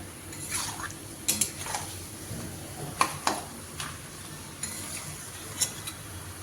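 Thinly sliced tomato sautéing in a pan for mutton vindaloo, a soft steady sizzle under repeated scrapes and clinks of a spatula against the pan.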